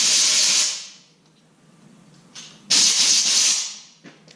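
Compressed air blowing coolant out of bolt holes on a 2014 Ford F550 V10 engine block, two loud sharp hissing blasts with a quieter pause and small puffs between them.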